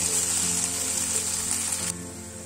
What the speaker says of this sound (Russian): пассеровать на тихом огне 5 минут.